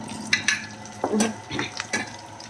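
Ginger garlic paste fries and is stirred in a pan, giving soft sizzling with a few sharp scrapes and clinks of a spoon against the metal, close by and with no talking.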